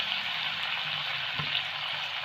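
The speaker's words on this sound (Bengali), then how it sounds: "এবার কিন্তু তেলে ফ্রাই করে নেব।" Soya chunks fry in hot oil over a medium-high flame, a steady quiet hiss with a faint bubbling pop partway through.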